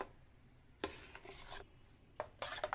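A spoon scrapes and stirs quickly through a thick fenugreek buttermilk gravy in a pot, giving a few close, short rubbing strokes with brief gaps between them.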